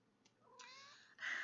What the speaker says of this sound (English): If you hear little random noises in the background, that is my cat